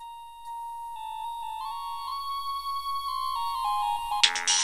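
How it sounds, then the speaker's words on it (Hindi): A phone ringtone sounding for an incoming call, a clear electronic melody of sustained tones stepping up in pitch, quiet and steady, ending with a sudden burst of noise as it cuts off. "फोन आ गया शेख जी। रिसीव करो।"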